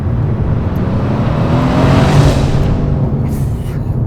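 Mercedes-AMG C63 sedan rumbles loud and close with a continuous, deep engine roar under load that swells slightly, then eases, heard alone without talk.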